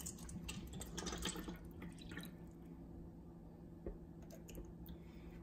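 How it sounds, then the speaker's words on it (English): Spring water from Sugar Pine Spring, California, is poured into a container for a pH and TDS test, making faint splashing and trickling that fades to quiet drips. "Let's pour some water in."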